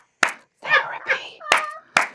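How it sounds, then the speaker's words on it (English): Two sharp hand claps ring out, separated by a short stretch of talking, then two more crisp claps close together near the end, loud and close. "I always call it the double claps"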